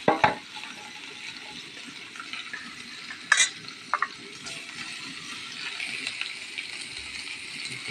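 Onions and chilies frying in about half a cup of oil in a pan give a steady, close sizzle, broken by a few sharp metallic clinks near the start and middle.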